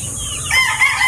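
A rooster crows once, close and loud, in a short rising call that lasts about a second, with no talking over it.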